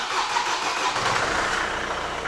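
A healthy-sounding car engine catches on the first turn of the key and settles into a steady, loud, continuous run close by, with no talking over it.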